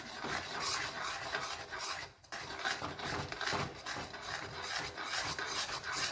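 Semolina halwa being stirred in a kadhai over low heat, giving a continuous close scraping and rasping of a spoon against the pan with a brief pause midway.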